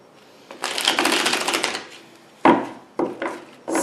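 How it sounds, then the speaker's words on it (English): A deck of tarot cards is shuffled by hand, a long riffling run of papery flutter followed by three short, crisp bursts of cards being cut and riffled again, close and clear with no talking. "2 more shuffles"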